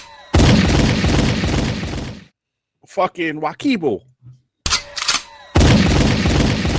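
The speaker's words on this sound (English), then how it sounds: "let me get the gunshots ready." Staged gunshot sound effects fire as loud, dense bursts of rapid booming shots, broken by a short stretch of someone talking and then resuming in a second and third volley.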